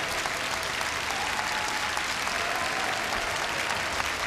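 An audience gives dense, sustained applause after a long school wind band concert at a cultural arts festival, a close, even wash of clapping that holds at full strength throughout.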